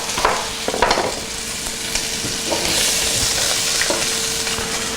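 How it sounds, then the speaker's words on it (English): Chopped onion sweats in a hot pan with a steady, close sizzle broken by scraping stirs and a few clattering knocks of the utensil. A faint hum runs underneath. "Sweat some onion into it."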